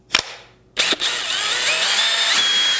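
A DeWalt kit's two-speed hammer drill: two short sharp clicks, then the motor whirs up and runs steadily, loud and close, with no talking.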